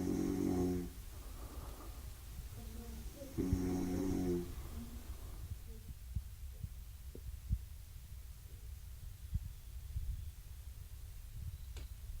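A man snores softly through a quiet night, slow rhythmic breaths rising and falling against a low hum, with a couple of louder snores early on and faint clicks later.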